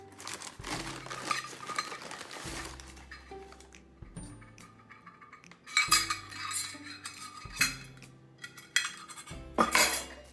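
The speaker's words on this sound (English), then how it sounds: "And again, we're just gonna stir this all in together." Banana bread batter is stirred and folded in a bowl, with irregular clinks and scrapes of a utensil against the bowl, some bursts louder and busier than others, close and without talk.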